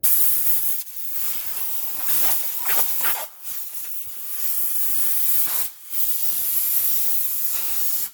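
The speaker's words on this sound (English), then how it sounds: "employ the use of a blower and blow all the crap out of there" Compressed air blower blasting debris out of a 2003 Toyota Corolla wheel spindle: loud, close hissing bursts, several long blasts separated by brief pauses, with no talking.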